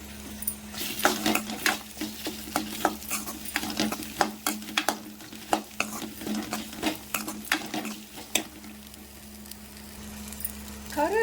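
Light crackling and popping of coriander seeds and dried red chillies frying in a hot pan, with scattered sharp ticks and stirring scrapes, close and fairly quiet, no voices.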